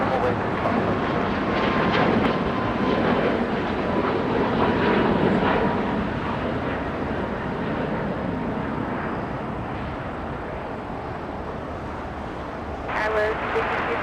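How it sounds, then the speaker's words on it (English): An Alaska Airlines jet takes off at Los Angeles with a broad, roaring engine rumble that slowly fades, and someone talks over it throughout. "We have Alaska taking off"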